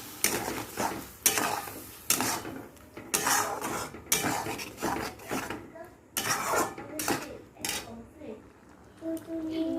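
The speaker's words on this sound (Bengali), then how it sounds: "পেস্টটা দিয়ে দিলাম, একটু বাটি ধোয়া জল, মশলার বাটি ধোয়া জলটা দিয়ে দিলাম।" A spice paste for an ol kochu (elephant foot yam) dish goes into a hot pan with a splash of water rinsed from the spice bowl, giving bursts of sizzling and scraping stirs with utensil clatter, close and fairly loud, with a voice talking at times.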